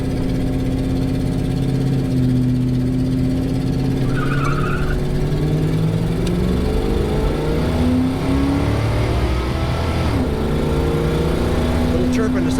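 A 1979 Chrysler Cordoba accelerates hard from a standstill in a 0-60 run, its engine note climbing steadily in pitch, dropping briefly at a gear change with a short tire chirp, then rising again, loud and close.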